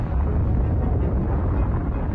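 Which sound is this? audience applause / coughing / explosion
explosion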